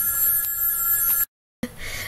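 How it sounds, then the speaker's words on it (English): A home telephone rings loudly and close by with a steady electronic trill. It breaks off into a moment of silence, and a faint muffled sound follows. "I just let the phone ring."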